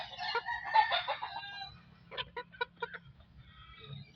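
Gamecock roosters in a yard just after rain, one letting out a full crow followed by a series of short clucks, fairly close and clear over a low background hum.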